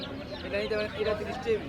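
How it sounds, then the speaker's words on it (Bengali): Young chicks chirp and cluck among the stalls of a village poultry market in Fatullah, Narayanganj. The high cheeps rise and fall beneath people talking close by. "এখানে এক কাকা কিছু মুরগির বাচ্চা নিয়ে বসছে"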